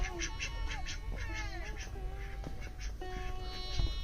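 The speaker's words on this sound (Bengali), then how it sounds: "এখানে হাঁস লালন পালন করে" Ducks quack repeatedly in a busy chorus at moderate distance on a rural homestead on Mirzanagar char, Bangladesh, with steady outdoor background noise and a few faint calls mixed in.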